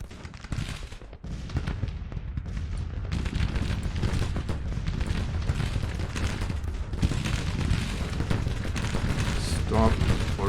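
Massed musket and rifle fire from battling infantry in the Civil War strategy game Grand Tactician, a dense, continuous crackle of overlapping shots and rumbling booms, with someone speaking over it.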